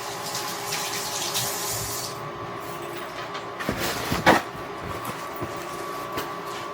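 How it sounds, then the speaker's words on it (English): Hands are washed under a running kitchen faucet, a continuous moderate splash of water with a few louder bumps and handling knocks partway through. "I like to wash my hands first."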